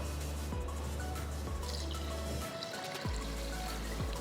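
Water poured into four cups of rice in a pressure cooker for mutton biryani: a steady, fairly loud pouring splash with a few brief drips, over a low background hum.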